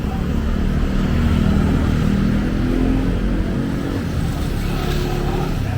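Motorcycles and other traffic rolling along a busy street in Angeles City, a steady loud engine rumble throughout with no clear single pass standing out.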